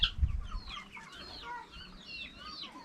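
Chickens cluck and chirp in a steady close chorus, with a low thump near the start and no talking.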